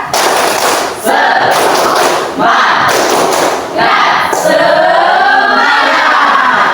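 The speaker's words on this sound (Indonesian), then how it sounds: "sekarang kita tepuk semangat dulu ya" A school class stands and performs a loud rhythmic clapping cheer, with bursts of sharp, thumping group claps and chanted shouts from many voices, ending in a louder collective yell.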